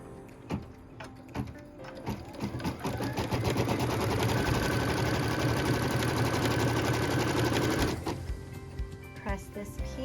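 A sewing machine runs steadily for about five seconds, stitching quilt block pieces, with quieter handling noises before and after the sustained whir.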